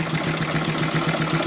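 Small electric sewing machine motor whirring steadily and continuously at close range, a loud mechanical hum with a faint rhythmic rattle and no talking.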